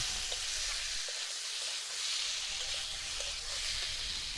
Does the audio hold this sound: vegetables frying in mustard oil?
yes